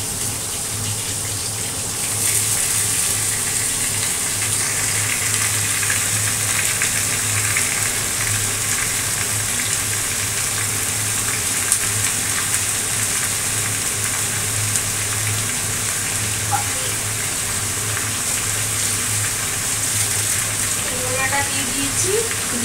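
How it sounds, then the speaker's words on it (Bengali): Pumpkin stalks fry in a hot pan with a loud, sustained sizzling hiss that swells after a brief quieter start and holds steady, with a few faint clinks near the end. "দিয়ে দিচ্ছি এই কুমড়ো ডাঁটাগুলো।"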